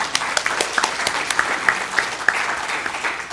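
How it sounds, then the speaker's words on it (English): Audience applause for a media panel at a digital storytelling festival, a dense wash of many hands clapping steadily throughout with sharper individual claps poking out, close and fairly loud, no talking. "let's give them a round of applause"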